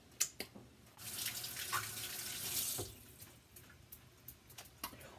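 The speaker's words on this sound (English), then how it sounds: "Wash my hands," Kitchen tap running while hands are washed before baking cookies, a soft burst of flowing water lasting a couple of seconds amid faint clicks and taps.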